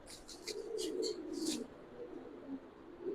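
Pigeons cooing at a large pigeon farm, soft low rolling coos running throughout with a few brief chirps early on, close and moderately quiet.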